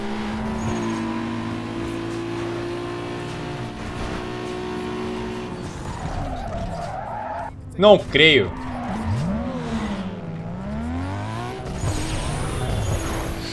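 In Need for Speed Underground 2, a car's engine drones steadily, then its tires squeal as it skids and spins out on a tight corner, with the engine revving again afterward while someone briefly speaks.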